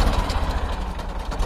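A Ford 3600 tractor engine runs steadily at close range, a continuous low, rough mechanical rumble with no voices over it.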